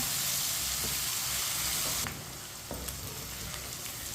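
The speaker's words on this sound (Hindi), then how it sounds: "इसे चम्मच चलाते हुए हल्का सा ब्राउन कर लेना है।" Okra for chicken bhindi sizzles in a pan as a spoon stirs it until lightly browned; a steady, close frying hiss with a few scraping clicks, softening noticeably about halfway through.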